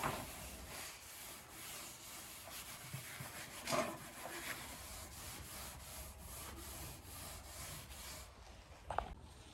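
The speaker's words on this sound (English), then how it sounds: "going to use a Scotch-Brite pad and roughen everything up" A Scotch-Brite pad roughens a Porsche 914 rocker panel before painting, producing a steady, close scratchy rubbing that repeats in even strokes, with a couple of louder scuffs.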